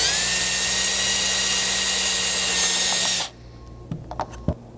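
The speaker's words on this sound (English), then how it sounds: "drill a small pilot hole out through the front of this panel." A power drill whines loud and steady, boring a small pilot hole through the front of a rear-window MOLLE panel on a 200 Series vehicle, then cuts off abruptly, followed by a few faint clicks and knocks.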